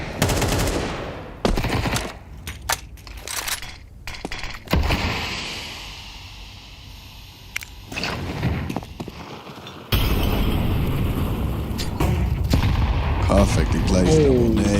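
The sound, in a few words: double grenade explosions in video game Counter-Strike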